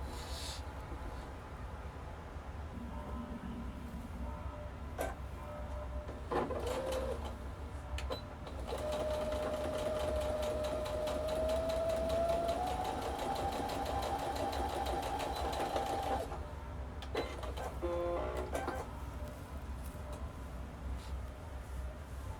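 Sewing machine stitching the four seams of a pair of trousers, a steady rapid whirring run lasting most of the stretch, with brief pauses and handling clicks toward the end.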